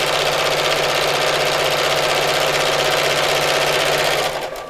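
A domestic sewing machine stitches through wadding for a fabric gift sack, running as a loud, steady, rapid mechanical whir close by and easing off at the very end.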